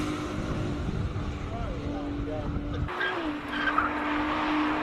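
A Ferrari 296 GTB launches up a Cape Town hillclimb course, its engine note a steady sustained drone that shifts pitch partway through, heard at a distance amid crowd and wind noise.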